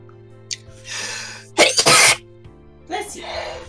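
A single sharp sneeze bursts out mid-clip during a late art livestream. Quieter breathy vocal sounds come before and after it, with talk nearby.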